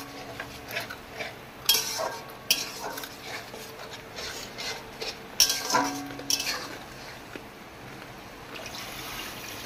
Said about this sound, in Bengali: কাঁকড়া কষা হচ্ছে এখন মশলা।